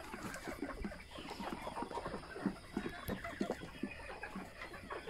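Laying hens about three to four months old, some fifty in one pen, cluck softly in their coop at night, with scattered low murmuring clucks and occasional sharper calls at a quiet level.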